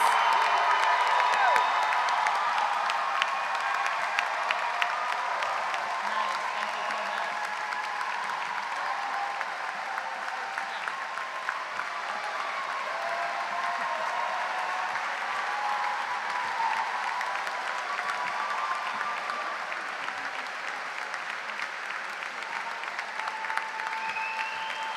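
Sustained applause from a large audience, with cheering and whoops mixed in, honoring 2018 Eugene Lang College graduates at a recognition ceremony of The New School; the clapping stays dense and steady throughout.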